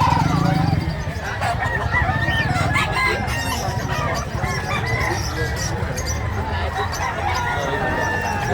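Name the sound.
labuyo chickens, rooster crowing at a market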